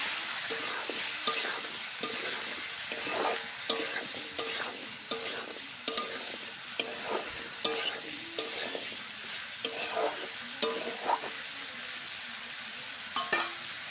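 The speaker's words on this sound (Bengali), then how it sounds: "এখন আমি নাড়াচাড়া করে মিশিয়ে নেবো" Pumpkin and shrimp being stirred together in a frying pan, a dry masala-style pumpkin prawn dish, producing repeated scraping and clinking strokes in a steady rhythm over a faint background sizzle, close and clear, with no voices.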